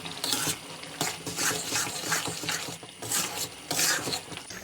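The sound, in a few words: stir-frying beef tikka karahi with green chillies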